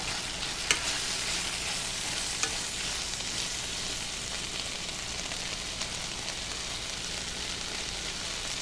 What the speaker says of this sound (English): So now I'm going to go ahead and give this a stir.